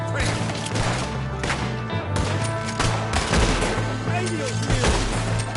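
Dense overlapping gunfire in a Red Dead Redemption 2 shootout, rapid shots and crashes blending into a loud continuous barrage with voices shouting underneath.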